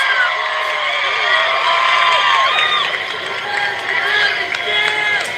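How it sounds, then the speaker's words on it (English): A large crowd cheers and shouts continuously, loud and close, with voices rising and falling in waves for several seconds. "As the crowd cheers."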